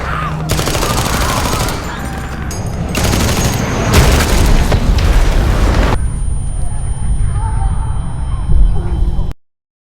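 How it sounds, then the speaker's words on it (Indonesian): Military blasts fired by air force troops in a zombie film, a loud sustained barrage of booming explosions and rapid gunfire that suddenly cuts to quieter rumble before ending. "peledak ditembakkan oleh pasukan angkatan udara hingga memekakkan telinga Spears dan Sun"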